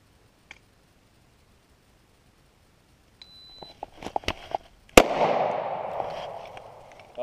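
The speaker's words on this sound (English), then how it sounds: "I was practicing just target focus shooting" Sharp pistol shots from a Smith & Wesson M&P Shield 9mm during single-shot target drills, a faint early crack followed by a handful of loud, close reports and a ringing burst of reverberation after the biggest shot.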